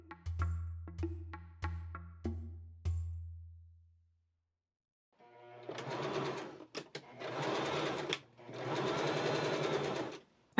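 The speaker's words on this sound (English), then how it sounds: "I machine sew the gusset onto the sleeve" Short clicks and a low ringing come first, then a sewing machine runs in bursts as it stitches a gusset onto the sleeve of a linen medieval tunic, alone and close.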